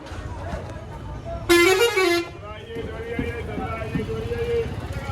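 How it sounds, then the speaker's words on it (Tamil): A busy bus station in Gaya, Bihar, with a loud bus horn blaring for under a second amid a crowded hubbub of engines and voices, as someone talks nearby. "இது வந்து கயாவோட பஸ் ஸ்டாண்டுங்க."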